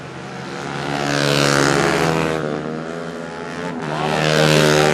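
Racing motorcycles in the SR 150 4T class at the 2012 Selangor Motor Race roar past loudly, their high-revving four-stroke engines swelling, easing off around the middle, then surging again near the close.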